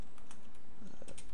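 Fingers tap out a short burst of quick keystrokes on a computer keyboard, close and clear.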